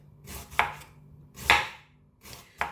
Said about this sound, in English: And this is how we cut it for browning it.